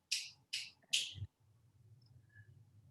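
Three sharp finger snaps in quick succession, crisp and close, followed by a low faint background rumble.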